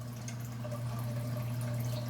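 In a home crayfish tank, water pours with a strong flow, making a faint, steady trickling and gurgling over a low constant hum, with no voices.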